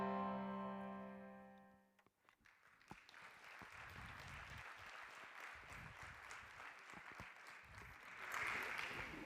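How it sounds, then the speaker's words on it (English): An audience at a keynote claps continuously after a tonal music sting fades out, a broad sustained wash of many hands that holds steady and swells louder near the end. "You can keep clapping."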